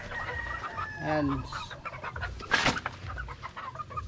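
Young Sweater-breed pullets, about four months old, cluck and squawk nearby in a pen, with one brief shrill call amid a steady farmyard bustle; someone speaks briefly.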